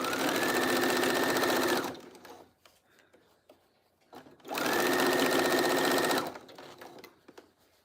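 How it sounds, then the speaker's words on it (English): A sewing machine stitching fabric around the edge of a diamond art canvas runs in two loud, steady bursts of about two seconds each, separated by a quiet pause with faint handling noises. "I'm trying to sew as close as I can to the drills."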